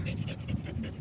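A dog pants rapidly and steadily, close by, in soft breathy rhythmic puffs during a dusk outing on a 400-meter running loop.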